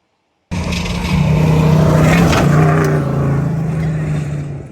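A Ford F150 truck on SVC Mid Travel suspension crawls over an off-road obstacle. The engine starts abruptly, then rises to a steady, loud drone that swells and eases as the truck climbs.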